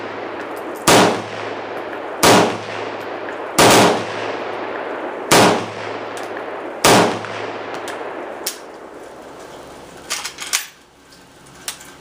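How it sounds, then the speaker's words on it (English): Five loud gunshots ring out one after another at an outdoor shooting range, spaced about a second and a half apart, followed by quieter clicks and handling noises. "we'll do about 7 or 8 rounds here"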